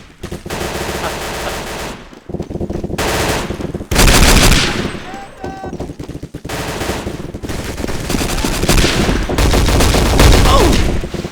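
Video game gunfire roars in long, dense automatic bursts, loud and close, broken by brief pauses and one sharp mechanical whine partway through.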